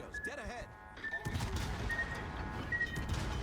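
Torpedo strike from a motorboat against a ship in World of Warships: a muffled, crashing impact with rumbling gunfire-like bursts that keep going under steady battle noise and a speaking voice.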